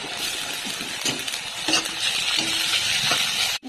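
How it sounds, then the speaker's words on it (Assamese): Onions and ginger-garlic paste sizzle loudly in hot mustard oil, a steady close crackling hiss with occasional spoon stirs and faint clinks, ending in a brief dip; no one speaks. "তেল গৰম হ'ল, এতিয়া পিঁয়াজ দি দিছোঁ। ইয়াতে মই আদা নহৰু পেষ্টখিনি দি দিলোঁ।"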